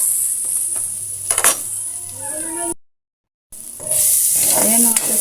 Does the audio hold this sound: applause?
no